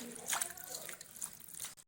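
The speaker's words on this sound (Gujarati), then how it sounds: "તો સરસ હવે પાણીથી આપણે વોશ કરી લેશું." Quiet splashing and dripping of water close by, with soft intermittent sloshes as spinach is rinsed.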